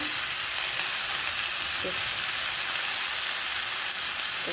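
Vegetables with added salt and turmeric fry in a pan while being stirred, producing a loud, continuous hissing sizzle with a faint scrape or two, close up and with no talking.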